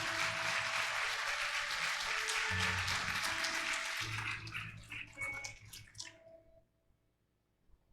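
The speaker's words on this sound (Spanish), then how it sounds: "Aplauda a Cristo." A church congregation claps at a Spanish-language service, a dense patter of many hands that swells and then thins out to a few scattered claps and quiet around six seconds, with a low hum beneath.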